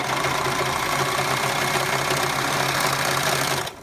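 A sewing machine stitching fabric runs as a steady, close, fairly loud mechanical hum and rapid rattle, then stops abruptly near the end.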